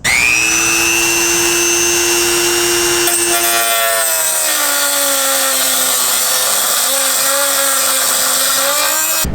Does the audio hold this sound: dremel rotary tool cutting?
yes